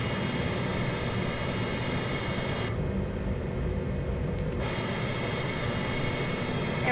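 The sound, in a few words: Airbus A320 jet engines climbing after takeoff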